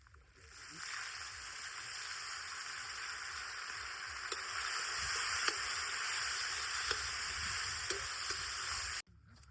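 Steady, close sizzle of hot oil tempering in a pan for a village-style brinjal tawa fry, continuous crackling with a few small pops, heard alone without voices.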